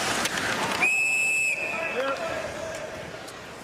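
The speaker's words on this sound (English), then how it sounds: "a whistle behind the play here brings it to a halt" A referee's whistle blows once at an ice hockey game, a single sustained shrill blast lasting under a second over steady arena crowd murmur.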